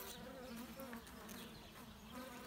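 Native honeybees hum in a continuous, steady buzz, dense and close, with no voices.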